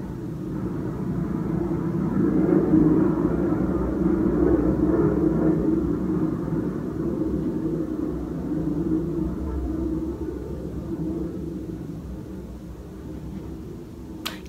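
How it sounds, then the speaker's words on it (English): Airplane passing overhead, a steady broad low rumble that swells and slowly fades over about fourteen seconds, heard indoors with no talking. "Hey airplane, you wanna fly somewhere else?"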